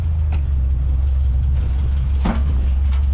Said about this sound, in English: I was just getting the sound of that lovely engine.